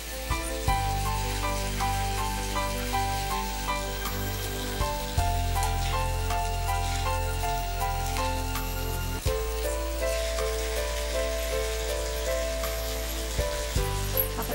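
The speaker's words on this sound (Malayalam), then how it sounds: "ഇഞ്ചിയും വെളുത്തുള്ളിയൊക്കെ മൂക്കാൻ തുടങ്ങുന്നു." Ginger, garlic and green chillies fry in a hot pan with a steady, even sizzle that continues throughout, with sustained musical tones playing behind it.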